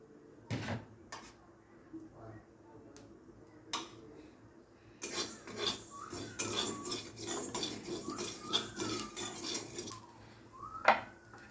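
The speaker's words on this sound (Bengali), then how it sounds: "শুকনো খোলায় আমাদের কালো জিরেটা টেলে নিতে হবে" Black cumin seeds dry-roasted in a rinsed wok with no oil: a few sharp clinks of utensil on metal, then a steady rattling, scraping hiss as the seeds are stirred, fairly close and moderately quiet.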